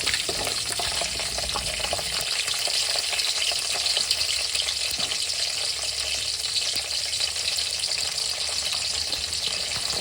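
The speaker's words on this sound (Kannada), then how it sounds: "ಇದು ಕೂಡ ಆಯಿಲಲ್ಲಿ ಕರೆಕ್ಟಾಗಿ ಫ್ರೈ ಆಗಬೇಕು" Cut green chillies fry in hot oil in a pan, giving a steady, dense sizzle with bubbling crackle that runs throughout at close range, with no voices.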